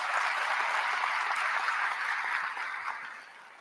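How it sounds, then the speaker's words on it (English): Audience applause at the Atlanta mayor's State of the City address, a broad, sustained roar of clapping from a large crowd in a hall, holding steady before gradually fading out. "Give my family a round of applause,"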